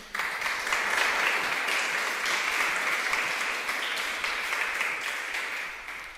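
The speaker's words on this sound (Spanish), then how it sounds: "Dele otro aplauso al Señor" Congregation applauding during a church service, dense sustained clapping from many people in a reverberant hall, rising quickly and holding steady for several seconds.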